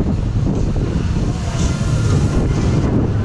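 Steady, loud wind blasts across the microphone on an open theme park ride at Fantasy Island on a cold, breezy day, a continuous broadband rush with no clear breaks.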